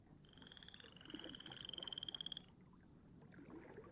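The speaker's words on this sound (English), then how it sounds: "Okay, the frogs." Frogs croak in a rapid rattling series that rises to a pulsing peak, then softer calls continue, with a faint high tone running steadily behind them.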